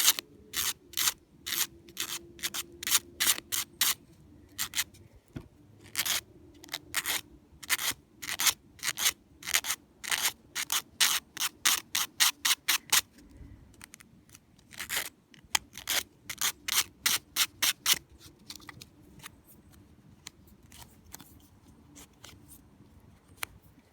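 Rapid rhythmic strokes of filing or sanding smooth the cut edges of a nail wrap sizing template, crisp scraping bursts in repeated runs with short pauses, close up.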